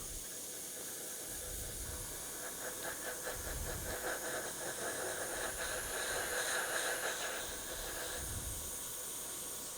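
Airbrush spraying paint onto a 3D-printed figure, a faint, steady airy hiss with light pulsing texture and low rumbles in the background.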